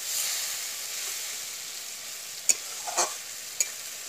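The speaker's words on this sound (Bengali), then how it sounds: "আবারও কিন্তু নেড়ে চেড়ে মশলাগুলো ভালো করে কষিয়ে নেব" Spices being stirred and fried in a pan for an egg curry, a steady close sizzle with a few sharp spoon scrapes and clinks against the pan, no talking.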